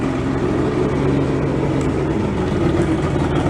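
Old bass boat outboard engine, first run after ten years under a tarp, running steadily with a loud low rumble and constant drone, close up, without clear distinct rev peaks and no talk.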